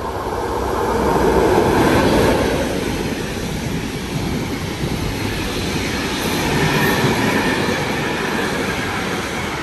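A train rolls through the station at Anzola Emilia, a loud continuous rumble and rush of wheels on rail with faint squealing, swelling twice as cars pass close by.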